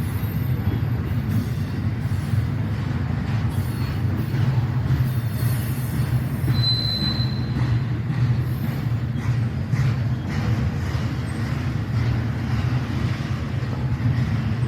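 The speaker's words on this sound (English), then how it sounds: "This is an intermodal train" An intermodal freight train rumbles steadily past at close range, a continuous loud low roar of wagons rolling on rails with wind buffeting the microphone.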